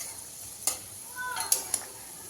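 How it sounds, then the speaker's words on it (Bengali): Mango sweets shaped like jalebi frying in hot oil on medium heat, giving a soft steady sizzle with a few sharp clicks of a utensil against the pan. "তেলটাকে হাই গরম করে নিয়ে একদম মিডিয়াম আঁচে এইগুলো ভাজতে হবে"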